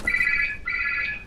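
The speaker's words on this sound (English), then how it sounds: "And my telephone's ringing." A telephone rings close by with two bright electronic trilling bursts separated by a brief gap, and no one speaks over it.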